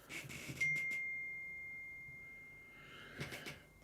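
A doorbell chimes at home, two quick bright strikes followed by a long sustained ring that slowly fades, then a softer burst of chiming, heard alone in a quiet room.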